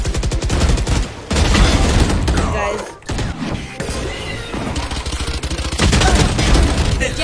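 Gunfire in the tactical shooter Valorant, loud rapid bursts of automatic fire and cracking shots in several dense stretches, with a brief lull and thuds between them.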